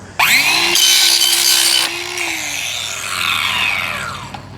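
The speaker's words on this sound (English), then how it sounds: "Widen it a little bit more with my tin snips." Tin snips cutting and widening a plastic funnel for filling a homemade strongman keg, a loud close rasping crunch that starts abruptly, then eases into softer scraping strokes.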